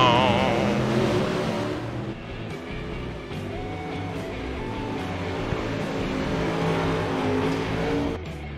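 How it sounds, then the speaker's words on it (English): UMP modified race car engines run steadily, a dense, loud mechanical roar with some revving, continuous throughout and without speech. "Is that the sound of some motors running, ladies and gentlemen?"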